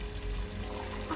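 Water pours steadily in a scene from the movie Captain America: Civil War, a soft continuous splashing stream like a running tap, moderately close and alone.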